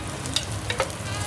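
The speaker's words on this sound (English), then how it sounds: "let's cook garlic to make it smell good first." Garlic frying in a pan on a home stove, a steady sizzling hiss with small crackles and light stirring knocks, close and fairly loud, with no voices.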